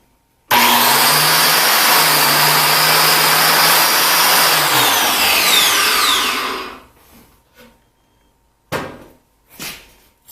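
A Craftsman 17539 6-amp corded biscuit jointer runs at a loud, steady whine for about six seconds while it cuts a slot in a board, then spins down. A few faint knocks and handling sounds follow.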